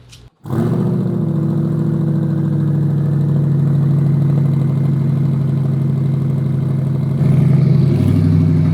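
A C8 Corvette fitted with an ETS turbo kit starts up and holds a loud, steady, rumbling idle, its pitch briefly rising near the end.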